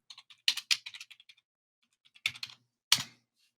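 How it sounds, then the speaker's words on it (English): Keys on a computer keyboard are tapped in short quick bursts while a search is typed, crisp nearby clicks separated by brief pauses in a quiet room. "we could always go into the search bar and type in like 2020 Justin Herbert"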